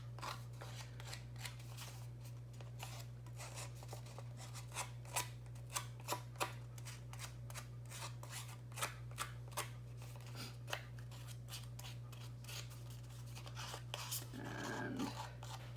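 Dry paper scuffing and crinkling with sharp little snips and crisp scraping strokes, close up and fairly quiet, over a steady low hum.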